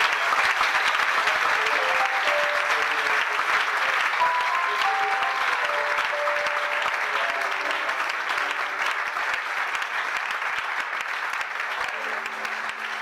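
A church congregation breaks into sustained applause, a dense steady roar of clapping that runs throughout, with faint voices and a few musical tones mixed underneath.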